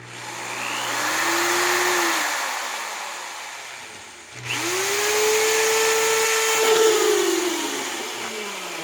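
A power drill whines through two steady runs drilling drainage holes in a plastic bucket, its pitch climbing and then holding, with a short break between them. No voices.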